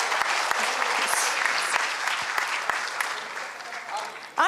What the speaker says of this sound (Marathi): स्वर्णिमासाठी एकदा जोरदार पुन्हा एकदा टाळ्या